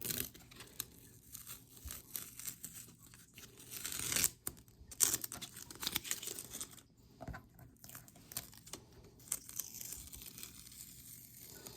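Adhesive tape peels slowly off watercolor paper in a long, crackling, tearing stretch with bursts of crinkly ripping, close and steady with brief pauses.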